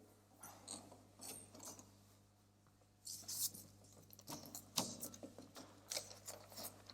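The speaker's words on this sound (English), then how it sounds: "Bolt that shutter there, Sean, and the door." A window shutter and a door are bolted shut in a pub at closing time, giving faint clicking, ratcheting and clanking mechanical sounds with scattered knocks against a low steady hum.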